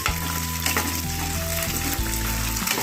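Diced boiled potatoes frying in oil for a sabudana khichdi, a loud close sizzle with stirring scrapes and a faint clink over the hiss, no talking.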